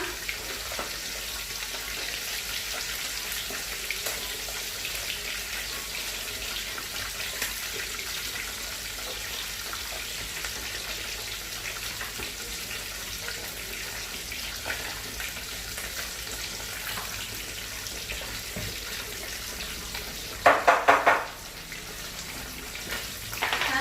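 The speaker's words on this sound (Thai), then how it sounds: "กระทะนี้ก็จะผัดนะคะ" Steady loud sizzling and frying hiss from a hot wok stir-frying bamboo shoots, with a brief burst of clattering or scraping near the end.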